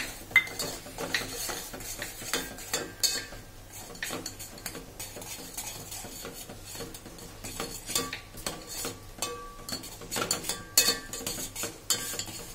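A spoon stirs rajgira (amaranth) sheera with popped amaranth in a pan, giving repeated close scraping and clinking against the metal at a low, moderate level and no speech.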